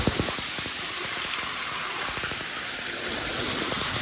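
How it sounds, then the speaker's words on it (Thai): The waterfall at Ban Huai Huat roars as a steady broadband rush of falling water, loud and continuous throughout, with no voices heard. "นี่คือมองน้ำตกมองสุดท้ายของบ้านหัวนะ"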